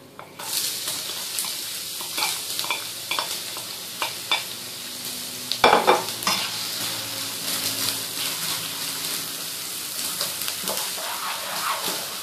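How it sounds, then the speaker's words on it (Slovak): Finely chopped onion fries in hot oil, a loud close sizzle that continues throughout, broken by frequent stirring scrapes and one sharp clatter in the middle. "Ako prvé si na horúcom oleji popražíme cibuľku."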